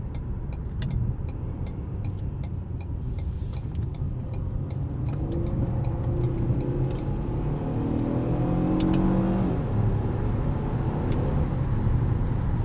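A 2016 Ford Taurus SHO sedan, in sport transmission mode with paddle shifters and 350 lb-ft of torque, accelerates with a steady engine drone and road roar that rises in pitch near the end; no one speaks.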